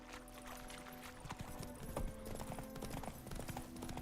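Roach the horse gallops in The Witcher 3, hooves clip-clopping in a quick, steady rhythm over a quiet game soundscape with no talking.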